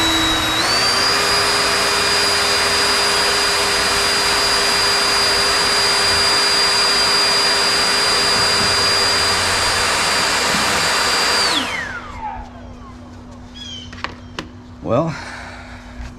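A Ryobi 40V HP brushless Whisper Series jet fan leaf blower roars on turbo at a steady high-pitched whine for about eleven seconds, then spins down, leaving quiet handling noises and brief clunks.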